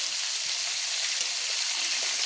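Prawns frying in oil in a pan for a Bengali golda chingri curry, a steady hissing sizzle with faint crackles, close and even in level, with no voices.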